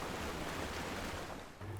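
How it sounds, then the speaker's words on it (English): Ocean surf and big swells rolling in at a beach, a steady broad wash of breaking water with some wind rumble, close and continuous for the whole stretch, with no voices. "As you go a bit further out, you'll see there's really big swells actually."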